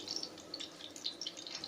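Water poured into a pan or jug to make a packet Knorr sauce in a home kitchen, a light steady trickle with small splashes, no voices.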